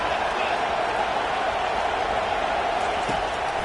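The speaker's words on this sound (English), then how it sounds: "This crowd bringing the energy and noise early." Football stadium crowd at a Rice at Ohio State college game, a steady broad roar of cheering and noise filling the whole stretch, dense and continuous without breaks.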